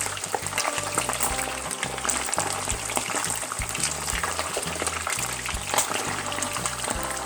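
Salmon fins deep-frying in hot oil give a dense, continuous crackling sizzle with sharp splattering pops throughout, over a soft musical background.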